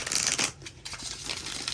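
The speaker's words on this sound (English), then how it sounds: "One more shuffle." A deck of oracle cards is shuffled close by in quick, papery riffles and ruffles. The sound is loud and continuous with a short lull midway, and no voices are heard.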